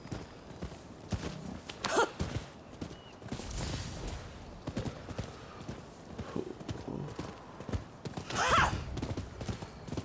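Horse hooves clip-clop at a steady walking rhythm in the Rise of the Ronin video game, moderately close, with a couple of brief whinnies rising above the hoofbeats.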